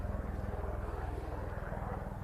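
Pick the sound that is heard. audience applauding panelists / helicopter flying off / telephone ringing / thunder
helicopter flying off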